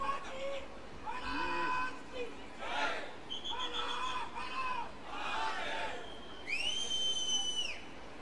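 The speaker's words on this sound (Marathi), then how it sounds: "बघा, टाळ्या शिट्ट्या घोषणा चालू आहेत" A packed open-air theatre audience at a political event claps, whistles and chants slogans, with loud repeated shrill whistles cutting through a steady roar of crowd noise and chanting.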